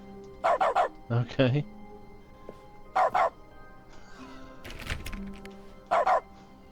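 Dog mode in the video game The Stanley Parable: a run of yippy dog barks in short pairs, repeated three times at a steady pace, with a brief bit of speech and rustling between them.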